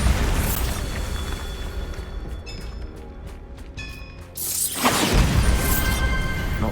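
Spell blast from the Bombarda spell in the Hogwarts Legacy video game: a loud broadband burst with rumbling low end, a quieter stretch of clicking mechanisms, then a second heavy explosive surge.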